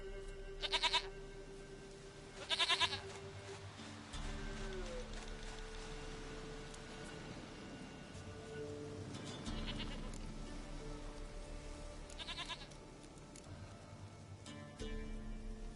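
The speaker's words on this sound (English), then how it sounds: "Goat of mine, dearest, sweetest goat." A goat in a video game bleats several times in short, nasal bursts spaced a few seconds apart, heard alone over a quiet ambient background.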